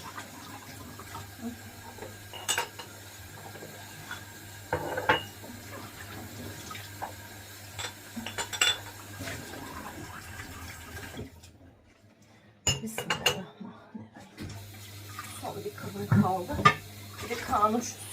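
A tap runs steadily while dishes and pots clink and rattle in a sink, with someone talking over the washing and a brief quiet pause.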